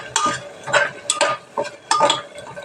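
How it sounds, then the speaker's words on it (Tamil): Onion and tomato being sautéed with salt in a pan for a mushroom gravy, heard as four or five short scraping stirs with a light sizzle between them, close and fairly loud, with no talking. "இதையும் சேர்த்து இதோட பச்சை வாடை போகிற அளவுக்கு நல்லா வதக்கிக்கிறோம்."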